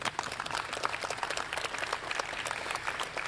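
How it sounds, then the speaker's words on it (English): A round of applause from a roomful of young people in a classroom-style gathering, steady dense clapping at moderate volume that holds evenly for a few seconds with no talk over it. "Let's give everybody a round of applause like we did Michael Getz when he was in our classroom."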